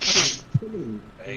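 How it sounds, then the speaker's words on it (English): A single sharp sneeze bursts out close and loud at the start during a multiplayer Project Zomboid session, and a voice speaks right after it. "I know that was a sneeze"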